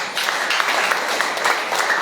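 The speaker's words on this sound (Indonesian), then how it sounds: "Tepuk tangan." A church congregation applauds, a dense, steady clatter of many hands clapping close and loud throughout, with no talk over it.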